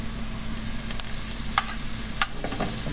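Floured shallots deep frying in hot oil, a steady broadband crackle and hiss with a few sharp pops and clicks scattered through, close and continuous with no voices.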